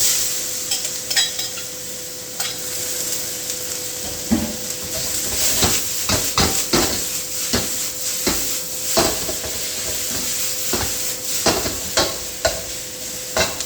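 Vegetables sizzle in hot smoking oil in a wok alongside garlic, a steady crackling hiss broken by repeated sharp scrapes and stirring clatters of a ladle, close and loud with no voices.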